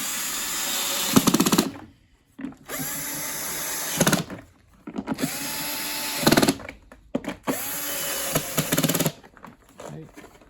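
Cordless drill or power screwdriver driving screws into the plastic housing of a Numatic Henry Micro vacuum, four loud whirring bursts separated by short pauses, with quiet ticks and handling noise between them.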